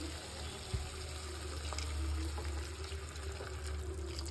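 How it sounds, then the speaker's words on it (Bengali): Hot water poured into a pan of nearly cooked chicken, a steady watery pour running near and fairly quiet against a low background hum. "এবার এর মধ্যে দেবো একটু গরম জল"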